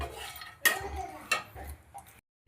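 Ingredients are dry-fried in a pan without oil, giving a few scraping knocks and clinks of a spatula against the pan, close and sparse, before falling silent.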